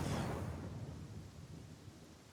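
Rain with a rolling thunder rumble in the fantasy video game Pathfinder: Kingmaker, loud at the start and fading into a steady, dense hiss of rainfall with low rumbling beneath, no talking.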